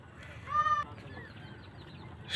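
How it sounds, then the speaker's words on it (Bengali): A duck on the water of a rural village canal gives one short nasal quack, faint against a quiet outdoor background. "সামনে কয়েকটি হাঁস পানিতে খেলতেছে"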